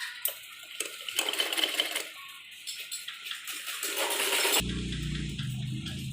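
A sewing machine stitches piping onto a girl's circular frock in rapid whirring runs with brief pauses, close and loud, followed by a lower-pitched hum at the end.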